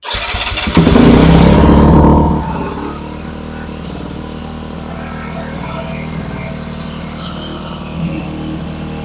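A vehicle engine cranks and catches on a Topdon JS1200 lithium jump starter's boost, roaring loudly for a couple of seconds before settling into a steady, close idle.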